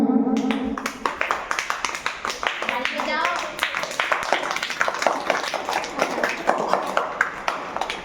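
A school crowd at a Basant Panchami program claps loudly in a burst of sharp, uneven hand claps that continues for several seconds. Voices can be heard underneath.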